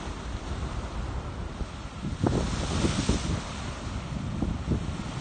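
Big ocean waves crash and churn along the Boston shore after a storm, making a steady roaring wash. Gusting wind buffets the microphone, and a few heavier surges break near the middle of the stretch.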